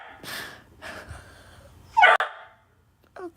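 A dog barks in a few sharp bursts, close by, with breathing and handling noise between them and a short yip near the end.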